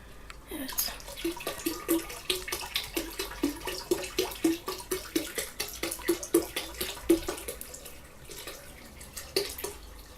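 Water pouring out of an emptied fish aquarium, splashing and gurgling in a steady run of irregular glugs and spatters, fairly close and moderately loud with no talk.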